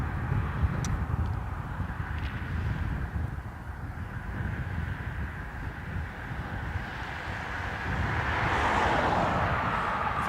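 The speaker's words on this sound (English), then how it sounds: "ATR inbound from Glasgow." An ATR turboprop airliner inbound from Glasgow makes a steady distant drone that builds slightly toward the end, mixed with wind noise at an airport.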